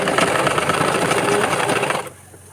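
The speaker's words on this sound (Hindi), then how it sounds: "अब हम सिलाई लगा लेंगे, इसमें डबल सिलाई लगा लेंगे दोनों" A sewing machine runs close and steadily for about two seconds, stitching a plain blouse with double stitching, a fast rattling whir that then stops abruptly.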